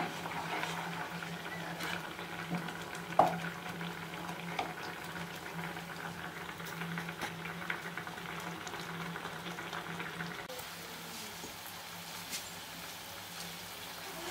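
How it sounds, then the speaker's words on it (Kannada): Thick mango burfi mixture bubbles gently in a pan on the stove, a soft, continuous low simmer with occasional small pops and faint kitchen clatter, heard quietly and without talk. "ಇದನ್ನು ಗಟ್ಟಿ ಆಗೋವರೆಗೂ ನಾವು ಚೆನ್ನಾಗಿ ಕುದಿಸ್ಕೊಳ್ಳೋಣ"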